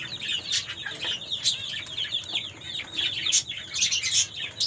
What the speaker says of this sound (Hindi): ये मुर्गी मैंने कुड़क पर बिठाई है